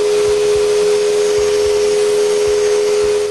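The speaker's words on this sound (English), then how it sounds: "I sand the interior." Sanding the inside of a wooden cremation urn frame with a power sander, a loud steady motor whine running without pause and a faint rhythmic rasp underneath from the sanding strokes.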